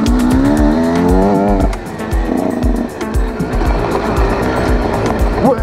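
A motocross dirt bike engine revs and rises in pitch, then drops back and picks up again in uneven bursts, loud and fairly close, with no talking.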